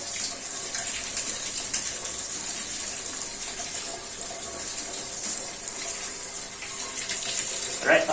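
A steady hiss of water spraying as a bicycle is rinsed during cleaning, continuous and fairly close, with light splashing and no talk over it.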